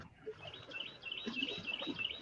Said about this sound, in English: I hear the birds in the background enjoying a sunny day.